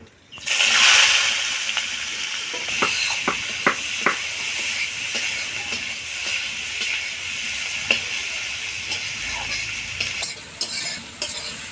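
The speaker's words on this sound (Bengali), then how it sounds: "গোটা জিরে আর গোটা গরম মশলা পেঁয়াজ কুচিগুলোকে ভেজে নেব" Chopped onions fry in hot oil with whole cumin, whole garam masala, dried red chillies and bay leaves, a bright loud sizzle that settles into steady hissing with intermittent spoon scrapes and stirring, close by and without talk.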